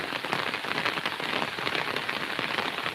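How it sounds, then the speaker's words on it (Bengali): Heavy rain pours down in a dense, steady hiss of drops striking the surface nearby, loud and unbroken with faint crackling patter throughout. "কি পরিমাণে বৃষ্টি নামতেছে"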